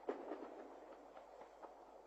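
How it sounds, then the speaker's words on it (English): A cartoon train rolls along the tracks with a soft, steady rumble and faint clatter, fairly quiet throughout with no one talking. "Miffy, Melanie and Grunty rode a train through different countries in Europe."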